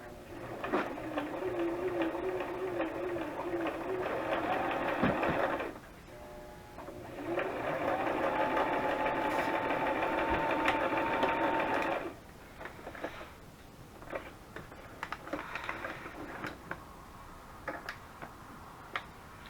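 A sewing machine stitching lace runs in two long bursts with a steady rapid stitching rhythm, pausing between them, followed by softer handling clicks and brief short runs.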